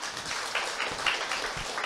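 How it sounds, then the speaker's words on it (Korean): An audience at an Atomy sales achievement event claps in a steady, soft patter that lasts throughout, heard from some distance with no one speaking over it. "다시 한번 감사의 박수 부탁드립니다"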